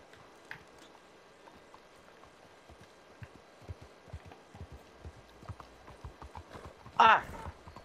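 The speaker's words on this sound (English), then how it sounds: "Oh, there's a horse." Horse hooves clip-clop in a video game, a quick irregular run of hoofbeats at moderate level under faint background sound, closing with a sharp louder burst near the end.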